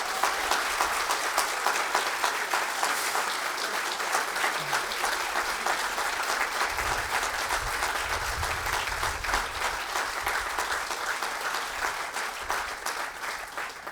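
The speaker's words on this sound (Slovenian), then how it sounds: "en aplavz za njega." Sustained, dense audience applause fills a formal ceremonial session hall, steady and loud throughout with no pauses, a large crowd clapping together.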